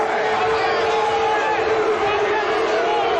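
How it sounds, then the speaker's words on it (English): A stadium crowd at a Legends Football League women's game roars its disapproval of a call, a steady loud wash of massed voices with a sustained booing tone. "This crowd not liking it."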